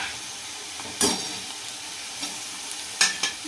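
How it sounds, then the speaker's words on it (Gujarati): Onions fry in a pan with green chilli and garlic for a Gujarati chavanu curry, a steady soft sizzle broken by sharp scraping bursts as a spoon stirs them, with no talk. "ડુંગળીને સતત હલાવો એટલે એ બળે નહીં અને એકદમ પાકી થઈ જાય"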